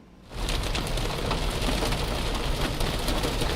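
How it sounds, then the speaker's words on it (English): Hail pelts a storm-chasing weather vehicle during severe storm coverage. It starts suddenly as a dense, loud roar of tiny impacts that holds steady and continuous with no voices. "we are coming into some hail. You can hear it dinging on our vehicle"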